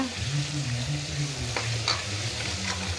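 Tomatoes sautéing in a pan crackle and sizzle steadily up close, with a low hum underneath and a couple of faint stirring scrapes.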